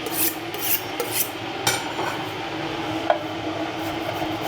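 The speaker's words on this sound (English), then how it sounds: "Just need to sharpen my knife slightly." A kitchen knife is sharpened while cooking pork ramen, giving a run of rasping, scraping strokes in an uneven rhythm, close and fairly loud, with no talking.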